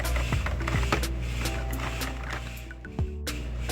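A Sentro knitting machine is cranked steadily, giving a continuous mechanical rattle with a regular clicking rhythm, close and fairly loud throughout.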